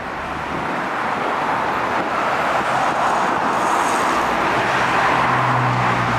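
A bus drives past on a road, its broad engine and tyre rumble building steadily and staying loud and near, with no voices.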